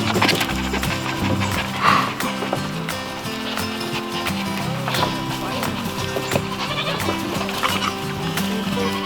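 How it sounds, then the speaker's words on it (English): Nigerian Dwarf goats bleating on a farm amid a busy, layered mix of animal calls, with several loud bleats and other farm animals nearby and a person talking over them. "You're a funny looking goat."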